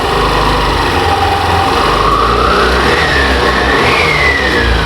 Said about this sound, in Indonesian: Di saat kita gas ya, gas kencang